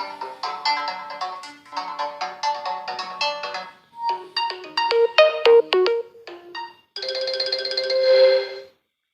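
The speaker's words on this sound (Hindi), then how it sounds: "कुछ रिंगटोन्स चला के देख लेते हैं" Several ringtones play one after another through the single bottom loudspeaker of an Oppo Reno 5 phone, bright chiming melodies and beeping tones separated by short pauses.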